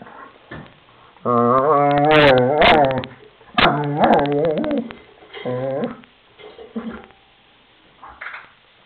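A German Shepherd guarding its toy makes grumbling growls that rise into whiny, yipping vocal bursts, loud and close, in several separate episodes with quiet gaps between them.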